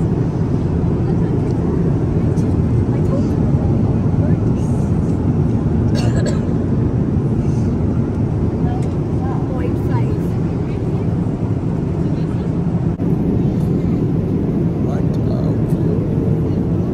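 Airliner taking off on a trip to London, heard from inside as a loud, steady engine roar and rushing cabin rumble that holds throughout, with occasional talking under the noise.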